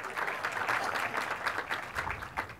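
Audience clapping at a groundbreaking celebration for a university tech campus, a modest crowd at moderate distance with sparse, uneven claps rising and falling in loose pulses.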